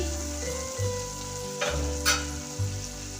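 Spice paste frying in oil in a pan for a banana flower and fish head ghonto sizzles steadily, with a few spatula scrapes and stirs breaking through over a low humming background.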